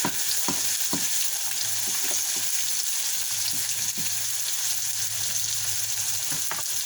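An egg cooking in a hot pan alongside Spam and vegetables gives off a steady, bright sizzle and frying hiss, with occasional soft taps and stirring knocks, close and continuous.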